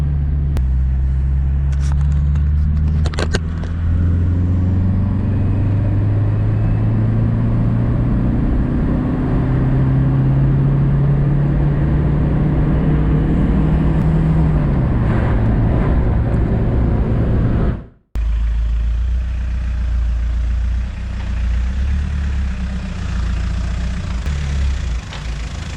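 A Ford Escort Express van with a boost-tuned turbo diesel engine drives on the road. The engine holds a steady low drone, rising and falling in pitch through the gears, and a brief gap sits near the end.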